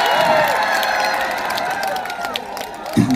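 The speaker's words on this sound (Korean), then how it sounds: "박수 한번 주세요" A festival concert crowd applauds and cheers in a steady, fairly loud wash that gradually thins out, with a voice heard faintly over it.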